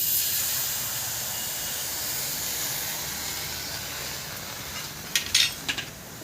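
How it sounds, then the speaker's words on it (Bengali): A little water poured into a hot kadai while hog plum pickle is being cooked gives a steady, fairly soft hiss of steam, with a few brief sharper sputters near the end. "কড়াইতে একটু অল্প করে জল দেবো।"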